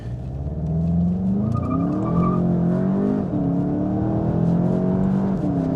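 A 2019 VW Jetta GLI 35th Edition with a DSG gearbox braking hard on lumpy brakes; the engine drones and shifts pitch as it slows, with a faint squeal of tires; steady, close, and without voices.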